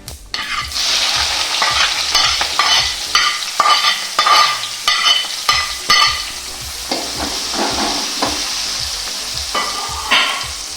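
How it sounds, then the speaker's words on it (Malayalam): Sliced onions and slit green chilies sautéing in hot oil for a Kerala-style beef pepper roast: a steady close sizzle broken by frequent scraping stir strokes, with no talking. "ഒരു 2-3 പച്ചമുളക് കൂടി നീളത്തിന് കീറിയിട്ട് അതിനകത്തേക്കൊന്ന് വഴറ്റാം"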